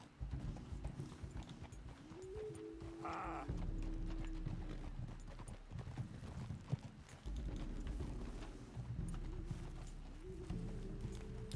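Horse hooves clip-clopping in the video game Red Dead Redemption 2, a steady ride under game music and ambience, with a brief whinny-like rise partway through; no talk over it.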